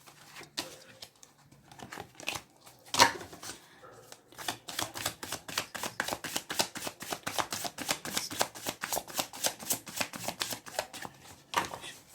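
Tarot cards shuffled and handled by hand: quiet, close, rapid papery flicks and taps in a fast, even rhythm, with a few louder riffles.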